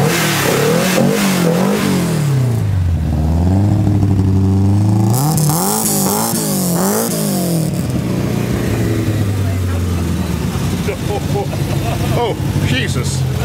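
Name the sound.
Saab V4 rally car engine revving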